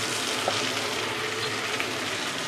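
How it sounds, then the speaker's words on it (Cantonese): Chicken pieces frying in a pot for a Luoding black bean chicken dish, a soft steady sizzle with a few small pops, fairly close. "嗱，咁樣擺落去慢慢煎，唔好喐佢啊！"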